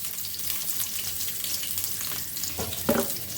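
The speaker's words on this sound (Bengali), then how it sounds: "এই যে সবজি রান্নার জন্য পেঁয়াজ কাঁচামরিচ দিয়ে দিলাম" Sliced onion and green chillies sizzle in a pan as the base for a vegetable curry, making a steady, close frying hiss with a brief stir or clatter near the end.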